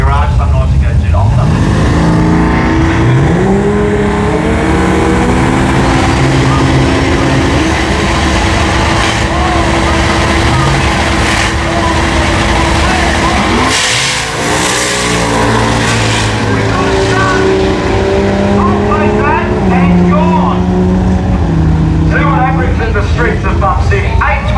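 A 427-cubic-inch turbocharged LS engine in a VK Commodore drag car roars at a drag racing track, loud and sustained with shifting engine tones, mixed with crowd noise and a commentator's talk over it.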